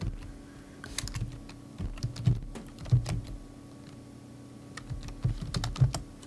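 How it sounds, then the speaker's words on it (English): Someone types on a computer keyboard, close and clear, with uneven clusters of key clicks and short pauses between them. "I'm going to go ahead and type in Land of the Giants"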